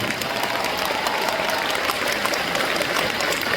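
A concert audience applauds, dense and continuous clapping from a large crowd, steady and loud without a break.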